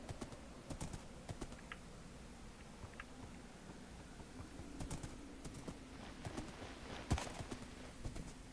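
Horse hooves clip-clop in the Minecraft Dawncraft game, coming in short uneven bursts of light steps with pauses between them, fairly quiet and with no talk over them.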